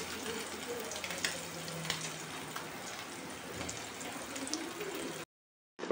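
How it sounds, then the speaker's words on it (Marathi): Mandeli fish coated in rava or rice flour frying in a pan, giving a steady, busy crackle and hiss like light rain that runs on evenly before cutting off abruptly near the end. "तर फायनली मच्छी आपण मांदेली फ्राय करण्यासाठी टाकलेले आहेत"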